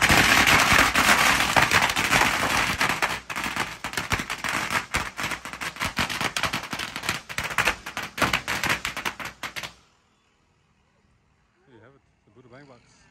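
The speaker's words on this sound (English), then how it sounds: "The Buddha bang box is about to go." A Buddha Bang Box of firecrackers goes off in a loud, rapid barrage of crackling bangs for about ten seconds, then stops abruptly, leaving near silence with faint voices afterward.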